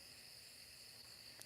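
Crickets chirping outside at night, a steady faint high trill that continues throughout under quiet background hiss.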